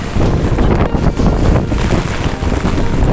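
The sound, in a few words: wind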